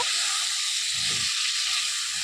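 Chicken pieces for lemon pepper chicken fry in a pan with a constant bright sizzle and hiss, steady and close, with faint low clatter underneath.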